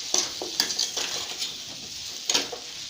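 A spoon scrapes and clinks against a pan while jackfruit curry is stirred, a few sharp metallic taps over a soft cooking hiss, fairly quiet and close.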